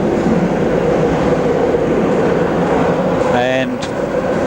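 Steady rumble and rattle inside a Budapest tram car in motion in 1991, a loud continuous ride noise, with a brief rising whine near the end.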